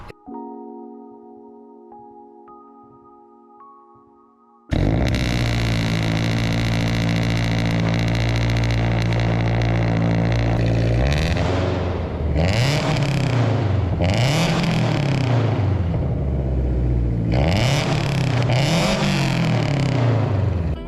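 A Toyota GR86 fitted with a Tomei exhaust starts and drives out of a garage bay, a loud, close engine drone rising and falling through several revving surges.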